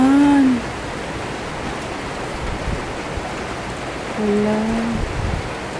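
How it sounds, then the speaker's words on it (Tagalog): Rain falling on a cool morning, a steady soft patter and hiss, with a couple of brief tonal sounds at the start and near the end. "Umuulan."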